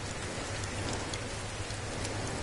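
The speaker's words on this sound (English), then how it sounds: "and it's raining." Steady rain falls across a planet's surface in the video game No Man's Sky, a dense, continuous hiss of drops with a soft low rumble underneath, unbroken and with no voices.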